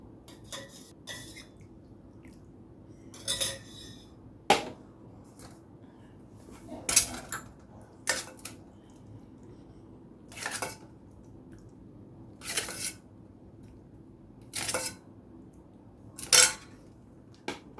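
While food is served onto plates in a home kitchen, crisp clinks of dishes and cutlery come in short, separate bursts every second or two over a faint, quiet background.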